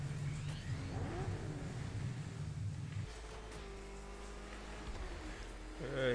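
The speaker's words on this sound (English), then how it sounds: "You got flying cars in the Shindo now" A flying car in the Shindo Life video game gives off a steady engine-like hum and rumble that shifts in pitch partway through, with a brief louder swell near the end.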